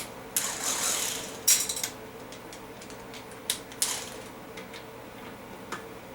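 A ratchet removes transmission valve body bolts on an L60E, giving faint scattered metallic clicks and short ticking bursts in a quiet workshop.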